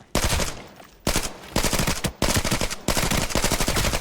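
AK12 rifle fire in the video game Arena Breakout Infinite, heard as four loud, sustained automatic bursts separated by brief pauses, with no talking over them.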